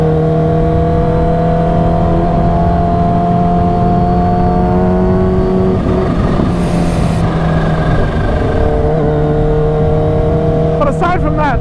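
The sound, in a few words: supercharged Kawasaki Ninja H2 motorcycle engine while riding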